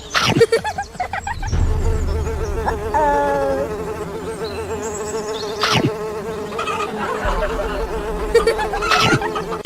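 Houseflies buzzing around food outdoors, with a steady insect drone running through most of the stretch beneath background noise and a few sharp knocks.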